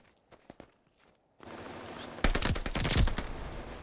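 Heavy gunfire in Call of Duty: Vanguard follows a few scattered footsteps and sharp shots, then erupts into loud, sustained automatic fire.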